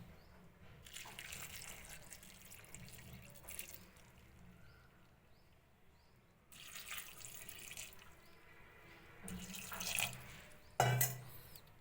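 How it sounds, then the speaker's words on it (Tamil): Water running from a tap into a cooking pot while making bottle gourd kootu, a steady moderate splashing flow in several bursts with a brief louder clatter near the end. "இப்போ நம்ம வந்து வாட்டர் ஆட் பண்ணிக்கலாம்."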